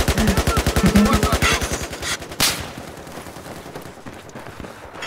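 Rapid automatic gunfire in the Battlefield video game, a fast loud burst of evenly spaced shots that thins into scattered distant pops and fading rumble.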